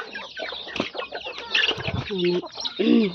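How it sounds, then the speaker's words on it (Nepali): Mother hens with young chicks cluck and murmur in short, repeated calls close by, with a few louder squawking notes near the end. "यहाँ चाहिँ सानो चल्लाको माउहरू"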